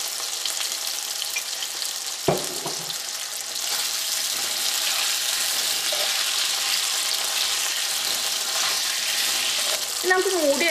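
Potatoes sautéing in a pan for a potato and brinjal curry, giving a continuous loud sizzle with occasional stirring scrapes and a sharp knock near the start, close and without talk.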